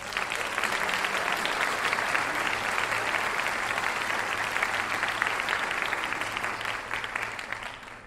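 A big round of audience applause at a high school senior awards night, loud continuous clapping from a full room that holds steady before easing slightly at the end.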